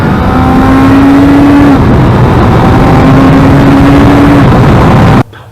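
A 2017 Suzuki GSX-R1000R motorcycle engine drones loudly while riding, with steady wind rush and sustained engine tones that hold, shift, then cut off abruptly near the end.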